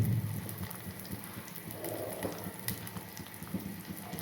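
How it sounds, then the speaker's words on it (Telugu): Amla rasam bubbles on the stove in a pot, a soft, steady simmer of small bursting bubbles heard close but quiet, with no talking. "చూసారా ఉసిరికాయ రసం ఎలా మరుగుతుందో"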